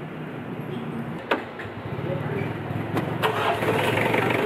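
A Mitsubishi 4D56 diesel engine cranks briefly and catches, settling into a loud, steady rattling idle close by.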